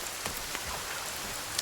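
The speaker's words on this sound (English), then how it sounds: "Oh, there's the rain." Steady rain falling in the forest in Sons of the Forest, a constant broadband hiss with soft scattered drop patter throughout.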